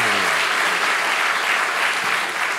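Studio audience applause at a Czech television talk show, a dense, steady wash of clapping from a large crowd, loud and continuous throughout with no pauses.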